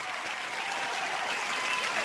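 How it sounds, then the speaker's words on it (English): Steady, dense clapping from an audience, sustained and fairly loud throughout with no pauses. "Great big round of applause."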